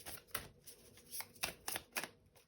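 Tarot cards being shuffled in a quiet room: several soft, crisp riffling bursts and taps in an uneven rhythm, close and fairly faint, with no talking.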